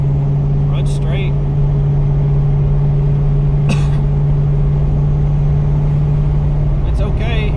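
A 1990 Saleen Mustang cruises along with a steady low engine drone heard from inside the car, loud and constant throughout, with a few brief clicks and rattles on top.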